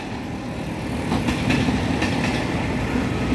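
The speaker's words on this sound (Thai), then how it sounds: "ตู้สุดท้ายรถพาวเวอร์คาร์ผ่านไปแล้วครับผ่านจุดตัดไปแล้วครับ" An empty rolling-stock train runs through a level crossing south of Sam Sen station, a steady low rumble with faint rhythmic clacks of wheels on rail joints, sustained and fairly near, with no talking.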